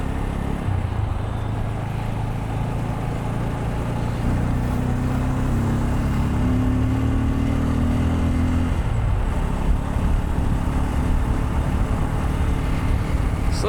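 A Bajaj Pulsar N250 motorcycle on a morning ride with friends, its engine giving a steady, close drone mixed with broadband wind rush that holds level for the whole stretch, with no talking.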